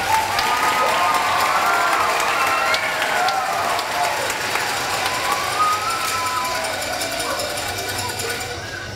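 Audience applause at an elementary school Battle of the Books event, a loud, sustained wash of clapping with murmuring and cheering from the crowd, fading slightly toward the end.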